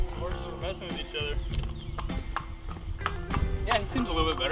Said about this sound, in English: Horses are messing with each other.